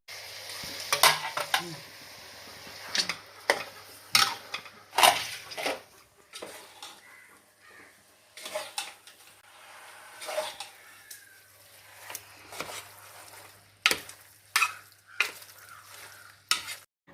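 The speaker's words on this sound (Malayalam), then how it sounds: "ബീഫ് അതിലേക്കിട്ട് മസാലയും നന്നായിട്ട് ഇളക്കി എടുക്കുന്നുണ്ടേ" Beef and masala being stirred in a pot, a spoon clattering and scraping against the metal in irregular bursts over a soft sizzle and a low steady hum, with no one talking.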